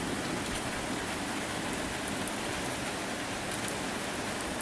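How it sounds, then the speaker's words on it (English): Steady rain falls outdoors on a gray, cloudy day, a dense even hiss of drops on surfaces that stays loud and unbroken throughout with no voices. "It's raining, it's pouring."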